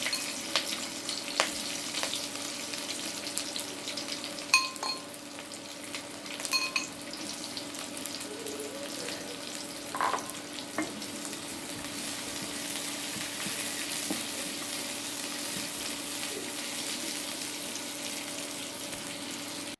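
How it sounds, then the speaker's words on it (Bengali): Chopped onion and two bay leaves frying in oil in a wok, a quiet steady sizzle under a low background hum, with occasional utensil clicks and light stirring, no talk. "প্রথমে কড়াইটি বসিয়ে দিয়ে পর্যাপ্ত পরিমাণ তেল দিয়ে তাতে পেঁয়াজ কুচি দিয়ে এবং সাথে দুটি তেজপাতা দিয়ে দিলাম"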